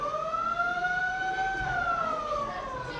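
An ambulance siren sounds during a school outing, holding one sustained wavering tone that rises slightly and falls back, fairly faint and with no voices over it.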